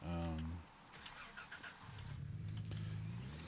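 A truck engine in the Gold Rush video game cranks and catches, then settles into a low steady idle hum, heard close and fairly quiet.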